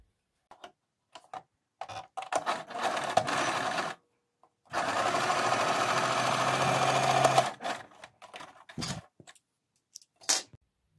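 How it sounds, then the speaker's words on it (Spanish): A sewing machine stitches a half-centimeter seam on fabric for a coquette bow, running in short bursts, then one long, steady stretch of rapid, close stitching followed by a few quick spurts. "Vamos a coser este a medio centímetro para que no nos quede tan angosto"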